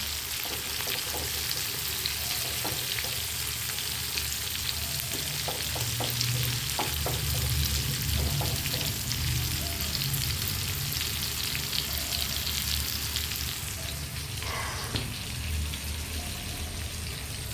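Prawns frying in oil, a continuous close sizzle with a bright hiss and scattered crackles, joined by occasional soft taps and stirring clinks, steady and moderately loud for the whole stretch.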